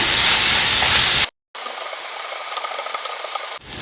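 Onions sizzling loudly in a hot pan with salt and curry leaves, a steady bright hiss that cuts out briefly, then resumes as a slightly quieter crackling fry.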